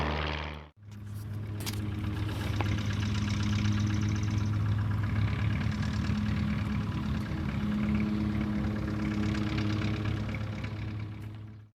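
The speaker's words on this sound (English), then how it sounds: "That's only a 65 horse engine." A small 65-horsepower aircraft engine runs steadily at a low, droning idle for several seconds, loud and close, with no talking over it.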